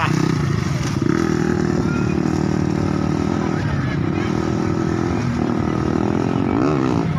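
A motorcycle engine runs loudly nearby at a seaside gathering, rumbling steadily with a slight rise in revs near the end, while people talk over it.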